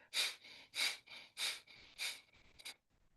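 Rhythmic yoga breathing through the nostrils during a Vasistha flow session, five close, airy breaths in steady succession, each a soft hiss rising and fading, ending in silence.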